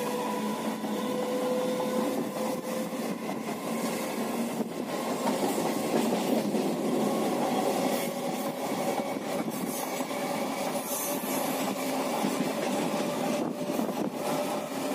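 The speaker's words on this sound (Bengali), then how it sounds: "আমাদের ট্রেন চলে এসেছে আমরা ট্রেন জার্নি খুব উপভোগ করতে করতে ত্রিবেণী থেকে রওনা দিলাম নবদ্বীপের উদ্দেশ্যে" A train runs steadily between Tribeni and Nabadwip, its continuous rumble and rail noise filling the whole stretch with no talking over it.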